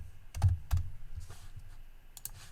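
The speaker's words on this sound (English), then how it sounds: "Let me type." Light typing on a computer keyboard: a handful of quiet, scattered key clicks with short gaps between them, close and soft against a faint background hum.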